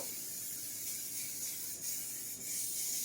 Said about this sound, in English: the first thing we're going to do is spray our sheet